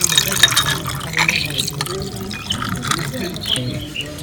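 Plain water poured into a jug of homemade peach juice, a close, continuous splashing trickle with small drips throughout, with a voice speaking over it.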